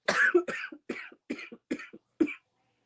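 A person coughs six times in a row, close and loud, each harsh burst separated by short pauses, the last one ending in silence.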